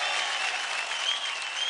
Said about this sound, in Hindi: थैंक यू, जोरदार तालियां हो जाए अमृता के लिए।